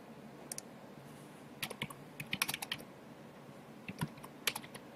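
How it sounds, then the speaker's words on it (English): Someone types on a computer keyboard at a desk with a three-screen setup, in quiet, irregular bursts of clicks with short pauses between them. "I'm typing off to this side just because I can."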